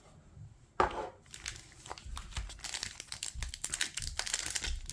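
Pokémon card booster packs being torn open, a sharp rip followed by continuous crinkling and rustling of foil wrappers with scattered crunchy handling noises, close and fairly loud with no voices.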